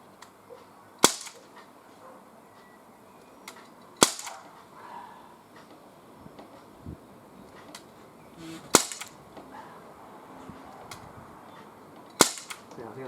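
Gamo MP-9 air pistol fired outdoors, four sharp isolated cracks spaced a few seconds apart, close and loud against quiet background.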